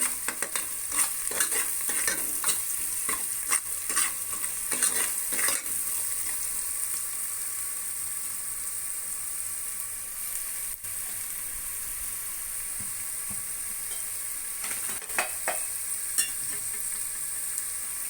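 Ingredients for a Mandya-style green mutton sambar are stirred in a pan with salt. Repeated scraping strokes sound over a steady, close frying sizzle, with no talking.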